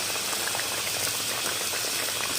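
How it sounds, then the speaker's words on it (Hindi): Kabab curry liquid comes to a boil in a pot, a dense and continuous close bubbling and simmering that carries on unbroken with no voices. "इसमें उबाल आना स्टार्ट हो गया"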